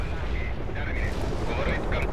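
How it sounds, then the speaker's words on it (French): A bomb explodes in the World in Conflict video game, heard as a loud, rumbling blast with a booming low-end wash that fills the short moment. "Ennemi pris dans l'explosion."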